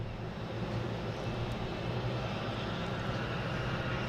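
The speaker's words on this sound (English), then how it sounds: "got a Delta taking off, heading to Charlotte, E175" Delta Embraer E175 jet taking off at Boston Logan International Airport, a steady broad engine roar heard from a distance, constant and unbroken without voices.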